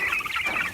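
Cornish cross chickens cluck in a brief burst of several quick, close calls outdoors on a small farm where they roam on grass among broad-breasted turkeys.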